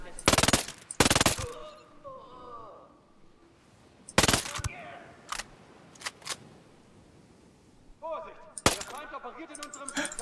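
Machine gun fire in the video game Ghost Recon Breakpoint comes in several loud, abrupt bursts separated by pauses, with clicks and rattles in between and voices talking in German.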